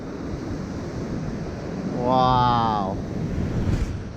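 Ocean surf breaking below as a small DJI Ryze Tello drone flies over big waves, a steady washing roar with wind buffeting the microphone; a voice briefly exclaims midway.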